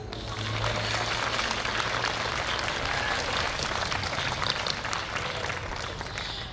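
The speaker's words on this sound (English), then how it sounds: "for our family and friends who put up with us when we lost our minds 2 years ago, a round of applause" Audience applause at a community college nursing pinning ceremony, a steady dense wash of clapping filling a hall for several seconds and holding at an even level throughout.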